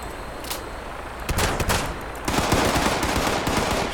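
Shotgun blasts in Fallout 76 ring out in an outdoor fight, a sharp report near the start, a cluster of shots around the middle and a denser run of gunfire toward the end, all fairly close and loud.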